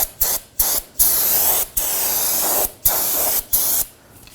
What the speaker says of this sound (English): Grab yourself some brake parts cleaner and spray it.